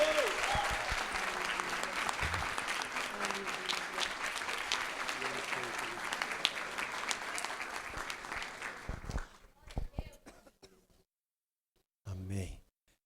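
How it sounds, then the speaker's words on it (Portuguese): A church congregation claps steadily at a fifth-anniversary Saturday service, dense applause that thins out and stops, followed by brief speech. "Isso, para dar uma salva de palmas."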